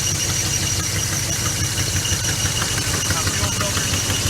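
A 1983 Chevy Silverado with a 350 engine idles right after a fuel pump replacement, a loud, steady rumble with a slight rhythmic knock throughout.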